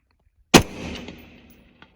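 A rifle fires at a target 300 yards away, a single sharp loud report with a decaying tail, then a faint distant impact or echo near the end; no talk.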